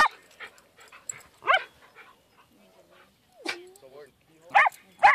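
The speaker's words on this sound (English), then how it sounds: "Why do you bark so much?" A small dog barks indoors in a few sharp, close bursts, with whimpering yips between them and a person talking in the room.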